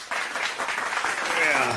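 A burst of applause sound effect, a crowd clapping steadily and fairly loud for nearly two seconds, dense and continuous after a brief quiet start.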